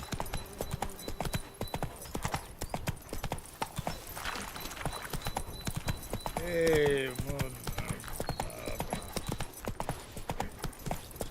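In The Witcher 3, the horse Roach gallops with rapid, rhythmic clip-clopping hooves that carry on throughout. A brief whinny cuts in midway, and voices speak over the hoofbeats.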